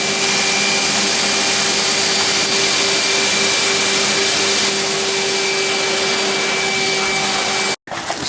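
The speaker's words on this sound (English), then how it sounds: "Vacuum clean the Liferaft." A vacuum cleaner runs steadily and loudly while cleaning out a boat's liferaft, a constant close whine with a fixed tone, cutting out abruptly near the end.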